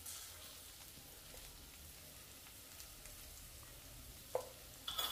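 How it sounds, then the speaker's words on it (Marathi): Okra sautés uncovered in a pan, giving a faint, steady sizzle with a soft rain-like patter, then a couple of brief clinks near the end, with no speech. "भाजी काही सेकंद परतून घेऊया आणि झाकण न ठेवता 2 ते 3 मिनिटं भाजी शिजवून घेऊया।"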